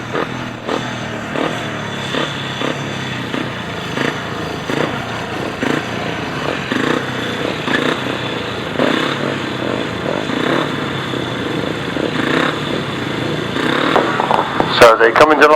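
Grasstrack racing motorcycles at the British Grasstrack Championships roll into line for a race restart, engines burbling and clattering steadily under continuous commentary, with a louder burst of revving near the end.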